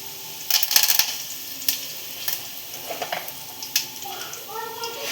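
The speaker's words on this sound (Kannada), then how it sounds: "ಜೀರಿಗೆ ಸಾಸಿವೆ ಹಾಕ್ತಾಯಿದ್ದೀನಿ ನೋಡಿ. ಅದು ಎಣ್ಣೆ ಫುಲ್ ಕಾಯ್ಬಿಟ್ಟಿದೆ." Cumin and mustard seeds hit fully heated oil, giving a soft sizzle broken by scattered pops and crackles of seeds spluttering in the pan, with a voice speaking quietly over it.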